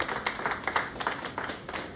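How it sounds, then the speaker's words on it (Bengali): An audience at a music launch event gives a short burst of applause, a steady patter of many hands clapping at moderate volume. "ওনাদের জন্য একবার একটা জোরে হাততালি হয়ে যায়"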